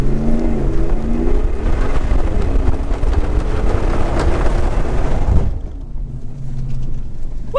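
A truck engine set to performance mode revs hard near a mud hole, a loud continuous roar that drops off abruptly near the end.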